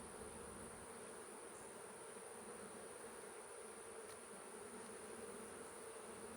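Honey bees buzzing densely around an open hive frame in a new beeyard, a constant close swarm drone with no talk.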